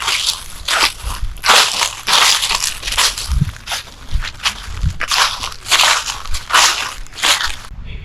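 A dry leaf crushed by hand outdoors at Angkor Wat, giving close, loud, crackling crunches in repeated bursts, with faint low thumps beneath.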